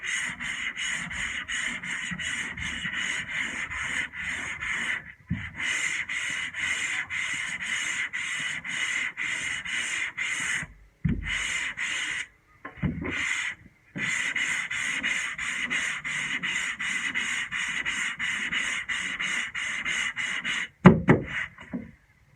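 Sanding a surface with 50 grit sandpaper to level it, rapid rhythmic back-and-forth scraping strokes in long steady runs with brief pauses, close and loud, no voices.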